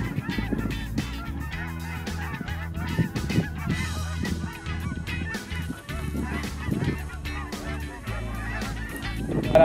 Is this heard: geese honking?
yes